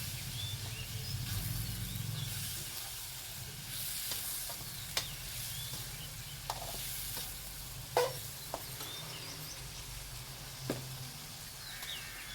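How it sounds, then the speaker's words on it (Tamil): Mustard seeds and lemon pickle stirred in hot oil, a steady close sizzle throughout with scraping stirs and a few sharp clicks of a spoon against the pan. "இப்போ உறவுகளே எண்ணெயில் இருந்து நல்லா நம்ம பரட்டி விட்டுக்கணும்."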